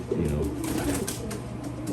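A pigeon coos low and throaty in a breeding loft, a steady run of rolling coos close by over continuous loft background noise.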